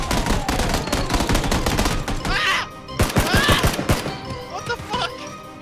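Bursts of rapid gunfire crackle from the battle royale video game PUBG, dense volleys of loud shots in quick clusters with brief gaps between them.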